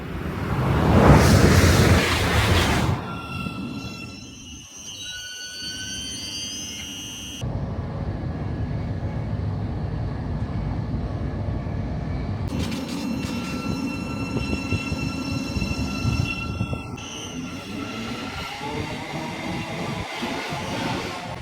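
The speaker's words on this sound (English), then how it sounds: "I'm going to head over to platform 1 now and film the train arriving as we head to the next station." A Thameslink train pulls into a station platform on the East Coast Main Line, with loud rumbling wheels and rail noise that swell, then settle into a steady roll and hum as the carriages pass close by.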